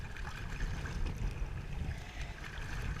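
Choppy, wind-whipped water in an island pass, heard as a steady churning wash with low rumbling gusts and buffeting wind noise throughout.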